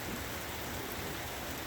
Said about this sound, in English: Starting to rain. Washing everything clean.